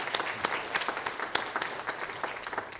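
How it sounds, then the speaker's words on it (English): A church congregation claps for the Methodist men members standing up, a steady wash of applause with sharper individual claps cutting through, fairly close and continuous throughout. "Give everybody a round of applause,"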